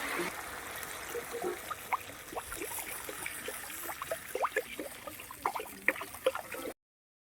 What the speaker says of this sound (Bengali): টকবক করে ফুটছে